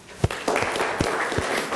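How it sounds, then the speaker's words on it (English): A small lecture audience claps, scattered hand claps building into steady applause at moderate distance. "this group owes you a round of applause"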